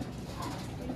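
Pigeons cooing in a backyard loft kept by a Filipino breeder, a soft continuous low murmur of coos mixed with faint ambient noise, close and steady throughout.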